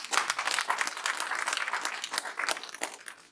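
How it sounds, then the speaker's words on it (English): Crowd at a village council office inauguration applauding stakeholders, an uneven patter of many hands clapping, moderately close and somewhat faint. "Let us give the stakeholders and everybody involved in government a big hand of applause."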